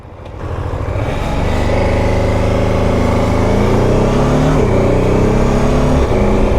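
A BMW F 450 GS motorcycle engine running steadily in second gear as it slows without the clutch, a loud, close, sustained drone with shifting tonal harmonics and a slight dip in pitch toward the end.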